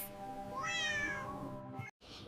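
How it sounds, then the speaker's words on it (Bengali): A kitten gives a single clear, rising and falling meow up close, followed by a brief click and quiet background. "এইগুলো হলো বিড়ালের বাচ্চা বিড়ালের বাচ্চাকে ইংলিশে বলে কিটেন্স"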